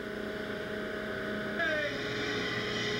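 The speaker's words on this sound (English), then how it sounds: "The shredder is now once again operating in a normal fashion." A Williams 600 horsepower rip shear shredder running normally gives a steady, loud industrial hum and drone with layered tonal whine, and a slight shift in pitch partway through, with no talk over it.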